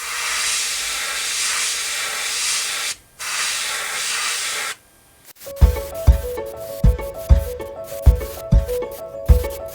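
A copper-colored paint is sprayed onto a shrimp lure in steady hissing bursts that pause briefly, then give way to a series of sharp, rhythmic knocks.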